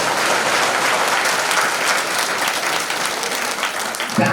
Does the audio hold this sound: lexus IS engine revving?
no